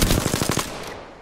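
Rapid automatic gunfire in the shooter game Apex Legends, a quick burst of about eight evenly spaced loud shots that trail off into a fading echo.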